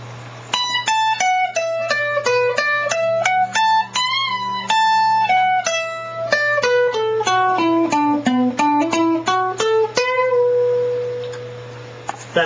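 A guitar plays a solo as a fast run of single notes moving up and down the scale, closing on a held note, with a steady low hum underneath and no speech.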